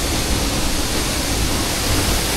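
Water pours steadily from an open faucet into a wide kitchen sink, a continuous close rushing hiss with no pauses and no voices.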